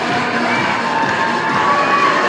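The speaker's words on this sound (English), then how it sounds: "Crowd getting into it." A baseball stadium crowd cheers in a loud, steady roar of many voices with higher shouts mixed in, continuous throughout.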